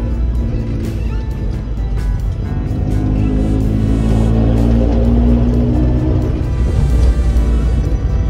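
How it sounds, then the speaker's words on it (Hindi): Mahindra Scorpio exhaust rumbles while driving, a deep steady engine drone with low harmonic rumble that swells slightly midway, heard up close and continuous with no talk. "बाकी भाई एग्जॉस्ट की तो आवाज़ ही सुन के मज़ा आ जाता है।"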